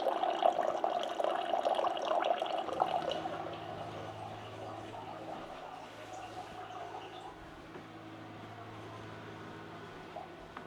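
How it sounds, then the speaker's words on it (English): A JIMMY R9 Pro countertop RO purifier dispenses a measured 120 ml of hot water, giving a steady running pour over a low hum that softens toward the end. "Hit that, and then it should dispense the 120 milliliters at the 110 degrees."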